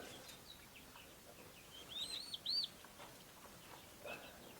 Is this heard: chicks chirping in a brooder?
yes